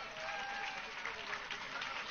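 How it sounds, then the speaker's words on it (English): Crowd at a United Against Hate counter-protest rally in Washington, DC applauds steadily as speakers leave the stage, a dense, even wash of clapping that holds at the same level from start to finish. "Clap them up as they go back to their spaces."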